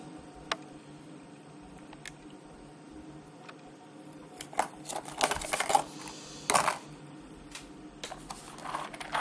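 A box of one-pound screws is shaken, starting quiet with a few isolated clicks and then breaking into bursts of close metallic rattling and clinking.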